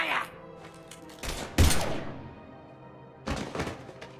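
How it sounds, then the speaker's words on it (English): Gunfire in the Mass Effect 3 video game comes as several sharp, loud bursts of shots and impacts separated by quieter pauses, with game speech faintly in the background. "Now open fire!"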